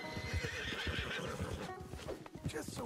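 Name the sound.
Hungarian Halfbreed horse whinnying in Red Dead Redemption 2 video game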